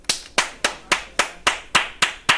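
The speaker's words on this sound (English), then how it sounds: "If I'm clapping my hands twice per second" Hands clap alone in a quiet room, nine sharp and evenly spaced claps at a brisk, steady pace, each ringing briefly before the next.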